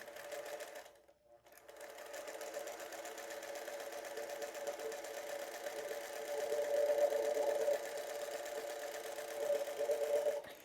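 Sewing machine stitching a 9 patch quilt, a steady mechanical whirring hum that runs almost throughout after a brief pause near the start, close by and moderately loud, with no talking.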